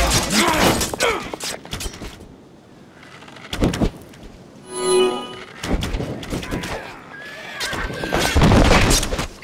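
A horse whinnies loudly amid clattering hooves and the thuds and clanks of a busy Helm's Deep battle scene in a video game, with bursts of noise throughout.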